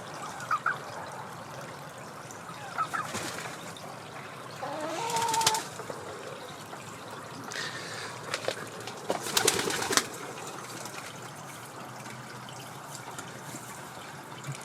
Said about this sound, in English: I bet it doesn't have a running stream going through it